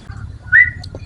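A canary gives one short, bright chirp up close, standing out briefly over a low background hum with no talk.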